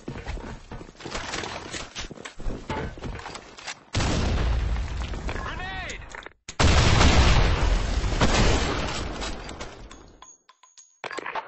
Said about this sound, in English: Kill! Grenade!